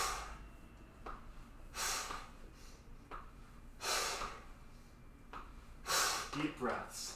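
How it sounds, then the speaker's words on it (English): Deep, heavy breaths during a slow core strength exercise with hands pressed into the floor, coming in about four loud bursts, drawn in through the nose and pushed out through the mouth, close to the mic against a quiet room. "Breathing through the nose, out through the mouth."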